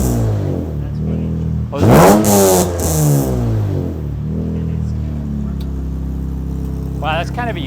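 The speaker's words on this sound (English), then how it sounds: "All right, I'm going to get behind it, give it a couple revs." An Acura TSX with a swapped J-series engine is revved a couple of times, its note climbing and falling in rising sweeps over a steady idle, recorded close with loud bursts and people talking nearby.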